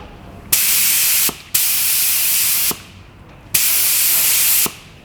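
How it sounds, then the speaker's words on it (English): An HPLV sprayer lets out three sustained bursts of fine water mist, each a loud, even hiss lasting about a second, with brief quiet gaps and a sharp click at the end of each burst. "So you want to kind of find that fine mist."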